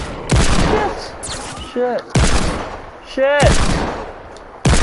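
Gunfire from the video game Fortnite: several loud, sharp shot bursts spaced through the clip, with a brief spoken exclamation between them.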